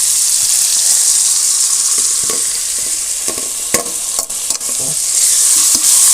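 Ginger garlic paste sizzles loudly in a hot pan for vegetable biryani, with a steady bright frying hiss under repeated scraping stirs from a spoon, close and continuous.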